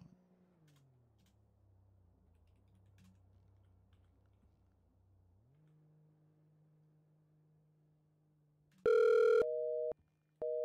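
A phone call placed to Archer in the GTA RP role-play game, with a quiet stretch of dialing hum followed by a few loud, sharp electronic tones and beeps near the end.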